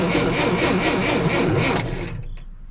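The engine of a 1958 Lull cherry picker that had sat for 15 years is cranked over by its starter, giving a rhythmic, laboring churn that carries on for about two seconds and then stops, followed by a faint click.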